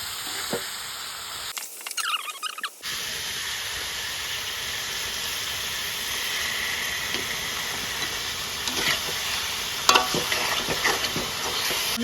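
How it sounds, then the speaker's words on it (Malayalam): Beef curry in a pan as coriander and turmeric powder are mixed in: a continuous hissing sizzle with intermittent stirring and scraping, a short muffled break early on, no talk. "മല്ലിപ്പൊടി ഇട്ട് കൊടുക്കാം ദെൻ കുറച്ച് മഞ്ഞൾപ്പൊടി മിക്സ് ചെയ്ത്"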